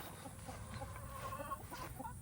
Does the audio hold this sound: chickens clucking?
yes